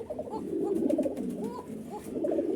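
Kokka (basiraj) pigeons cooing up close, a string of soft, low, throaty coos repeating in an uneven rhythm over a murmur of background birds.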